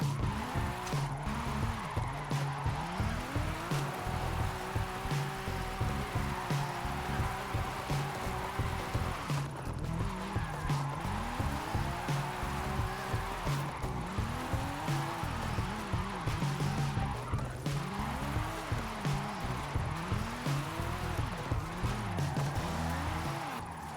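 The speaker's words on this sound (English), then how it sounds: "And now I'm going to attempt some drifting, which I haven't done in this game since it came out, pretty much." A Toyota Chaser drifts in Forza Horizon, its tyres squealing in long rising and falling sweeps over a steady, loud engine roar that carries through the whole stretch.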